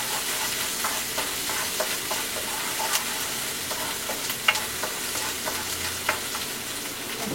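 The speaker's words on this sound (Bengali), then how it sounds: "আদা রসুন পেস্ট, একটু নেড়ে ফেলে বাকি মশলাগুলোকে আমি দিয়ে দিব।" Ginger garlic paste sizzling and frying in a pan for a Bengali rui fish kalia, with steady crackle and several distinct scraping stir strokes throughout, close and moderately loud with no talking.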